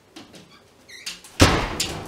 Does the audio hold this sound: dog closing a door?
yes